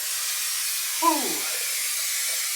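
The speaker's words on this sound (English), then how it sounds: "And just spray away" A spray can applying a coating gives a steady, close broadband hiss that runs throughout, with a brief tonal chirp partway through.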